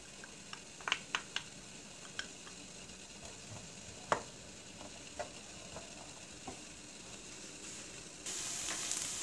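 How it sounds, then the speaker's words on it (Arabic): Onion sautés quietly in a pan for a quiche, a soft sizzle under scattered spoon taps and scrapes, with a brief louder hiss near the end. "غادي نبداو في التشحر. غادي نلوحو البصله"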